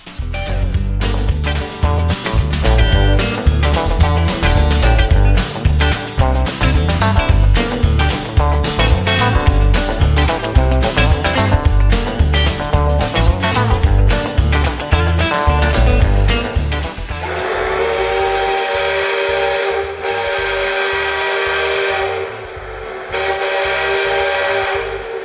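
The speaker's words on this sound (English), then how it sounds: "Once the engine was hot, No. 3 was backed out of the engine house, and the whistle was given its first pull." Lima 5 chime steam whistle on Sierra Railway No. 3 locomotive, heard after a loud rapid chuffing exhaust rhythm, then a long, steady, loud chime blast that pauses briefly and resumes.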